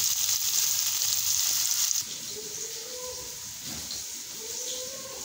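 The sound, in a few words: cucumbers sizzling as they roast in a pan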